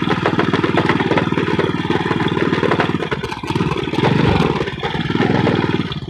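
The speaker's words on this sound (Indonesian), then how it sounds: "suaranya menggelotrok. Udah tua motornya" An old motorcycle engine idles with a rattling, clattering rhythm on a beach trip, loud and steady and slightly uneven, with no speech over it.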